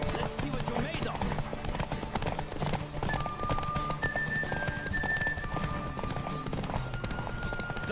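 In The Witcher 3, a horse gallops during a race, its rapid hoofbeats drumming steadily under game music and ambient sound, with a brief whinny-like tone in the mix.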